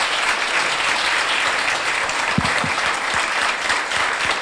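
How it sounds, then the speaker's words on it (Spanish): An audience at a seminar on journalism, media and dictatorship claps at length: sustained, even applause from a room full of people, with no voices rising above it. "yo voy a pedir un aplauso para todos"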